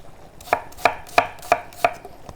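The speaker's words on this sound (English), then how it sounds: "So we'll just slice this nice and thinly, just into kind of like little kind of chunks like that." Sage leaves are sliced thinly with a knife on a chopping board for a pork and apple stroganoff. Six crisp, evenly spaced chops land about a third of a second apart, close and clear, with no voices.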